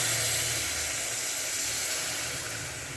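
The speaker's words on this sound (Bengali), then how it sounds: "এবার আমি জল দিয়ে দেব।" Water poured into a hot pan of sautéed palam greens for a churchuri bursts into a loud, steady hiss of steam and sizzle that tapers slightly toward the end.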